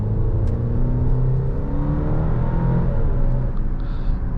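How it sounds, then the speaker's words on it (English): A steady 2-liter turbocharged four-cylinder engine hum from an Alfa Romeo Stelvio Veloce, with rising and falling tones as it revs gently, droning throughout without any speech. "it has a fantastic sound for this engine. This 2-liter turbocharged 4-cylinder"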